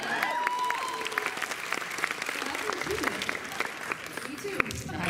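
Audience applause and cheering at a convention panel with a live crowd, dense and steady throughout with scattered whoops and voices mixed in.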